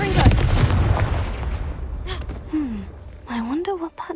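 Confringo fire spell bursting in the Hogwarts Legacy video game on PS5, a loud blast at the start that fades into a rumbling tail, followed by short game effect sounds.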